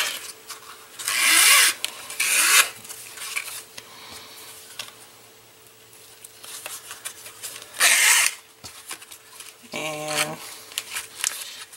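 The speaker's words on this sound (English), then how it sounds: "You don't have to pull it tight, tight. Just pull it down some." Ribbon is drawn through the holes of a handmade paper memory book, giving several short rubbing, rasping pulls with quiet handling noise between them and a brief clattering rattle near the end.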